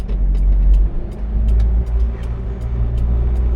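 Car cruising through busy city traffic, a strong low engine and road rumble filling the interior with faint clicks and ticks over it, steady throughout and without speech.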